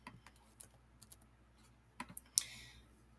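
Quiet keystrokes and mouse clicks on a computer keyboard during spreadsheet work sound in short, irregular taps, with a few sharper clicks near the end.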